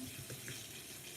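Hot tap water runs steadily into a kitchen sink, a soft continuous wash of faint, distant-sounding flow with no talking.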